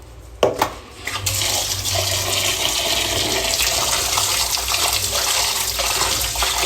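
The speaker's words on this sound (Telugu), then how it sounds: "చికెన్ అయితే శుభ్రం కడుక్కునేద్దాం రండి" Raw chicken, about a kilogram, being washed under a running kitchen tap, a steady loud gush of water splashing continuously after a brief clatter at the start, with no talking.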